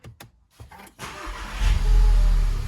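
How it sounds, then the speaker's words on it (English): A few clicks and a brief starter crank, then a VW GTI/R or Audi MQB car engine catches and settles into a loud, rumbling run, close by. "I'm going to get the car started up here"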